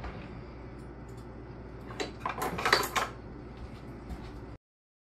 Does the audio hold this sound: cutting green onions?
yes